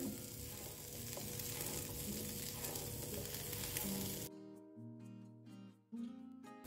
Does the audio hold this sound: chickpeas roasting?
yes